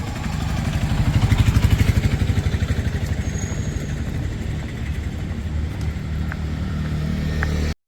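A vehicle drives along with a steady, throbbing engine rumble that pulses a little louder early on, constant and close throughout with no talking.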